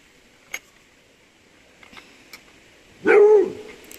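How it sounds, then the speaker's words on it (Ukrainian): Dog barking at home, one loud close bark near the end after a few faint clicks and knocks in an otherwise quiet room. "Чого він гавкає?"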